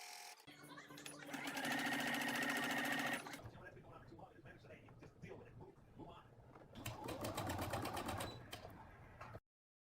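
A sewing machine runs a stitch along the edge of a fabric strip for a shower liner, a loud steady whir in two long bursts with a softer handling pause between, no talking.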